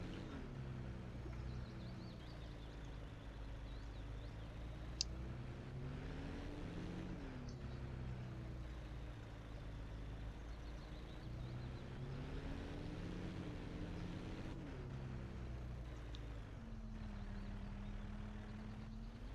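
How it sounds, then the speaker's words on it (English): A farm tractor engine labouring over rough, uneven ground, a low droning rumble that rises and sags in pitch repeatedly as the load changes, steady and moderately quiet with no talk. "This freaking tractor is struggling on this ground."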